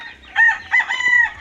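Chickens on a farm crow and cluck in short bursts, close and clear, with two or three rising calls over a quiet outdoor background.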